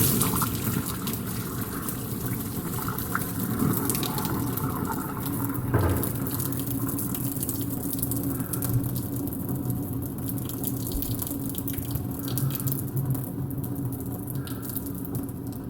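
Water pouring off a pot of cooked rice through a lid with draining holes, a steady splashing rush that continues throughout at close range, with no talking.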